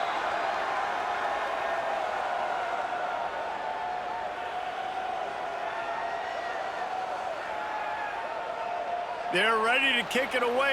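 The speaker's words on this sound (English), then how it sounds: "this crowd is buzzing after that last score" Stadium crowd in College Football 26 for an SMU vs Missouri State game, a steady buzzing roar that fills the whole stretch beneath continuous play-by-play commentary, swelling slightly near the end.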